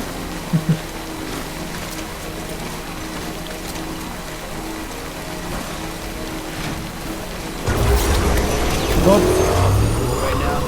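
Rain pours down in Death Stranding, a steady broadband wash that thickens and grows louder near the end, while someone talks over it.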